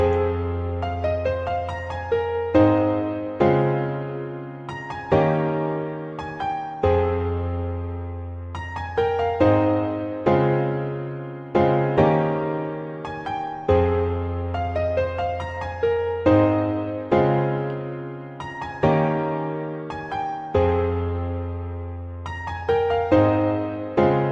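Nexus grand piano chords with a melody over them, playing as an R&B-style progression, ring out in a steady rhythm of struck notes that decay between hits, loud and clear with no voices.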